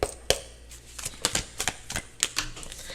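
Tarot cards being shuffled close by, a quick irregular run of crisp snaps and flicks.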